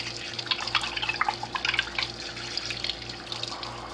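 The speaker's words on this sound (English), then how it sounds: "Let's rinse the knobs off here." Running tap water splashes over radio knobs from a Channel Master 6505 AM table radio as they are rinsed in a sink, a close, steady pattering stream with small irregular splashes and no talking.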